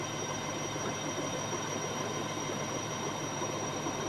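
An Indian army supply train rolls along on its way from a New Delhi base toward Chennai, giving a steady, even rumble of rail noise with a faint high whine and no pauses or talk.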